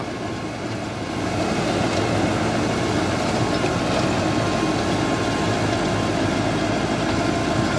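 A New Holland Fiat 640 tractor of about 75 hp working a 2020 King Daska 54-cutter rotavator, a steady loud diesel drone with churning rumble that swells after the first second and holds constant, close by with no voices.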